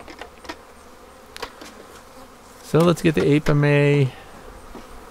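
Honeybees buzz steadily around a hive on a raised stand beside an Apimaye Ergo hive, a constant low drone that continues under a person speaking briefly close by.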